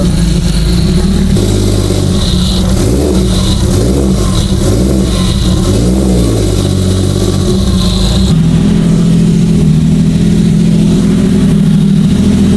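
A Toyota Supra engine fitted in a car, running with a leaking exhaust manifold that gives it a truck-like sound, loud and close, a steady rough drone with a rise in revs partway through and a heavy idle afterward.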